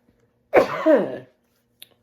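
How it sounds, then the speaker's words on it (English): A single short, close cough, followed by a tiny click and then silence. "doesn't it freak you out when somebody coughs?"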